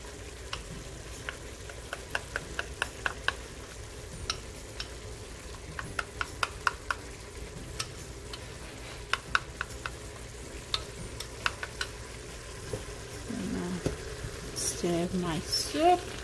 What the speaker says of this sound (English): Stir my soup.